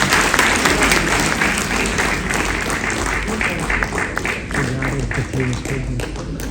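A crowd at a Yakshagana performance of Devi Mahatme in Jammu and Kashmir breaks into loud, sustained applause, a dense wash of clapping from many hands that continues throughout.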